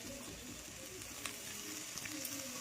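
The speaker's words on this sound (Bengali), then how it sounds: "আর দিয়ে দেবো পেঁয়াজ আর 2টো কাঁচা লঙ্কা। এগুলো একটু ভাজা ভাজা করবো।" Onions, garlic, ginger and green chillies fry in a pan, giving a faint, steady sizzle with a few light scraping clicks from stirring.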